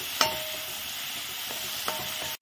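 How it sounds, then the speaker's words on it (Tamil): Coriander powder, chopped tomatoes and chillies sauté in a pan for a spring onion gravy, giving a steady close sizzle, with two sharp spatula clinks near the start and later on. "கொத்தமல்லி பொடியில் உள்ள பச்சை வாசனை போகிற வரைக்கும் இப்போ வதக்கணும்"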